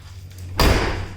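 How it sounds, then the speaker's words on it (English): A car door swings shut during panel alignment work on the body, landing as one solid close thud after a quiet moment, followed by a short fading resonance. "So let me close the door."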